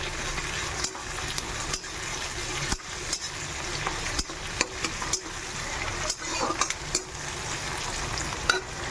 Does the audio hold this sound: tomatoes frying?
yes